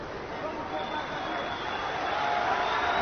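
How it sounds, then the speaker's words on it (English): Arena crowd at an MMA bout roars in a steady, broad wash of cheering and hubbub during the final minute of the fight, sustained and swelling slightly toward the end with no clear voice above it. "Appreciative crowd for these two warriors as we hit the final minute of the fight."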